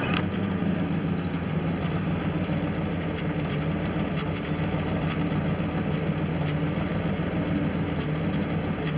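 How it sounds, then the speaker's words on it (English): A 1994 Ford F-350 truck engine with a suspected injector issue and a manifold exhaust leak idles steadily nearby, a constant low rumble with a faint mechanical ticking and rattle, unchanging throughout. "I think I still may have an injector issue."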